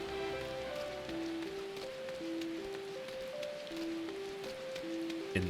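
Soft rain ambience in Final Fantasy XIV hisses steadily beneath a gentle, stepwise game melody, the drizzle low and constant rather than prominent.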